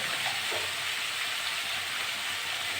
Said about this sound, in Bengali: এটা নেড়ে চেড়ে নেবো, নেড়ে চেড়ে একটু ভাজবো